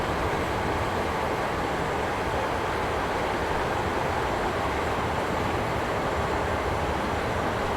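A train in Train Simulator 2015 coasts with its power idled on the Warrington to Liverpool route, giving a steady, unbroken rumble and rushing wheel noise that stays at an even level throughout.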